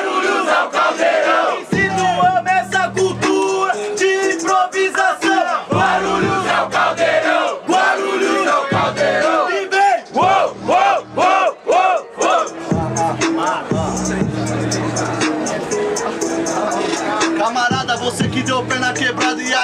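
A loud crowd roars and cheers throughout a freestyle rap battle in Guarulhos, São Paulo, with repeated surges of shouting and rhythmic chanting over a steady low beat.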